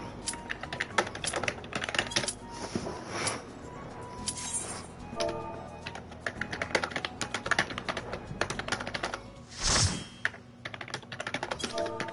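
Rapid clattering keystrokes on a computer keyboard during a Final Fantasy XIV game session, continuous and close, with a brief louder burst partway through and game sounds faintly underneath.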